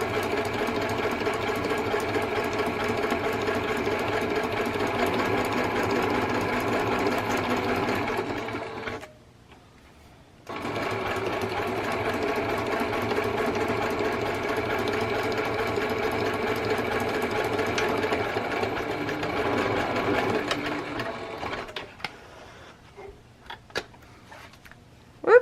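A sewing machine stitches a vellum pocket page for a scrapbook layout in long, fast, even runs of rattling needle strokes, with a brief pause between runs and a quieter stretch near the end.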